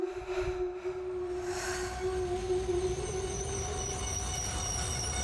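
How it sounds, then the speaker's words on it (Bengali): A train rolls into a small platform and comes to a stop, steady rumble of rail cars with a sustained wheel squeal running throughout, close and continuous, no voices. "ট্রেনটা গিয়ে থামলো ছোট্ট একটা"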